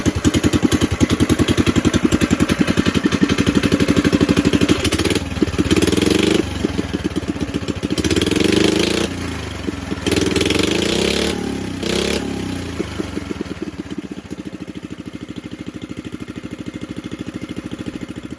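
A small Briggs & Stratton engine on a vintage mini bike runs close and loud with a rapid putter, revving up and down in several surges before settling back to a steady idle.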